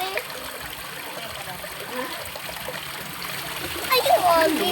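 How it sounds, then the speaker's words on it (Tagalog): A strong spring gushes and splashes in a continuous rushing stream that swells louder near the end, with people talking over the water. "Ang lakas ng spring."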